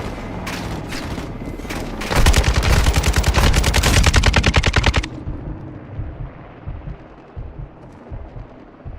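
Light machine gun fire in Call of Duty: Modern Warfare II: a loud, rapid sustained burst of close shots lasting a few seconds, followed by quieter game ambience.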